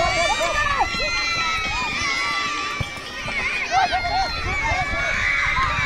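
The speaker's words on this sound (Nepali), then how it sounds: "यसै गरी हाम्रो अडियन्सबाट पनि ताली र हल्ला देख्न सक्नुहुन्छ हजुरहरूले" Spectators at a school sports-week futsal final roar and cheer after a goal, a dense, steady wall of crowd noise with a commentator talking over it.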